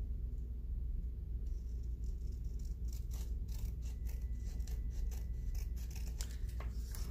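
Scissors snip a paper stripe for a handmade card, a quiet string of short, crisp cuts that quicken in the second half, over a low steady room rumble.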